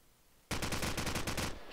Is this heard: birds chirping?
no